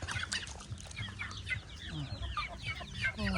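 Several chickens cluck and chatter close by in a busy, overlapping flock, with constant bird noise filling the background.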